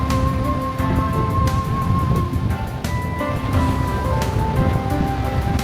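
Ocean surf on Grace Bay Beach in the Turks and Caicos after Hurricane Erin rolls in as a constant, full roar, with gusty wind buffeting the microphone throughout.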